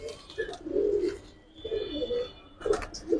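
Pigeons, including silver and colored Giribaz birds, give soft, close coos in short rolling phrases with brief pauses, fairly faint.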